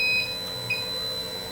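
Door-open alarm on a cold room beeping in short electronic tones, two clear bright beeps about half a second apart against a steady low machine hum, fairly close and with no talk.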